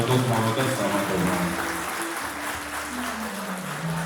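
Wedding guests applaud the toastmaster at a Georgian wedding celebration, a steady wash of clapping that fills the room throughout, with music or voices faintly underneath.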